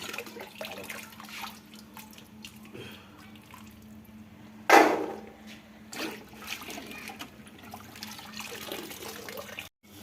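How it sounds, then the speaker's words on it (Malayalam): Onions being washed under a running kitchen tap, a steady low stream of water with soft splashing throughout and one brief louder gush near the middle. "നമ്മൾ ആദ്യം ഉള്ളി നന്നാക്കി അത് കഴുകി മാറ്റുകയാണ് കേട്ടോ."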